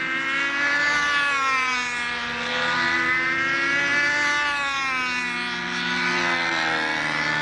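A Brodak Cardinal control-line model airplane flies on a nice day, its small glow engine fitted for a KMD 40 with a tube muffler, giving a steady, loud, high-pitched whine that rises and falls gently as the plane circles.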